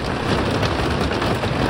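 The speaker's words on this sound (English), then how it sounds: "It's raining again." Heavy rain with large raindrops pounds down steadily and loudly on a lakeside camp, a dense, even wash of drumming with no pauses.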